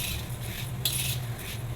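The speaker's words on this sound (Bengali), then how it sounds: "আমি পিতলের কড়াইতে চিড়া ভেজে নিচ্ছি।" Flattened rice (chira) being dry-fried in a brass wok, giving a steady dry rattle and scrape of grains against metal, with a low hum underneath and a brighter burst of stirring partway through.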